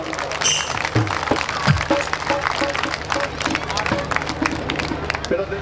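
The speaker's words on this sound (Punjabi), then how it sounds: "ਸਾਰੇ ਤਾੜੀ ਮਾਰ ਦਿਓ" Audience clapping at a live show at a mela, a steady wash of applause with crowd noise.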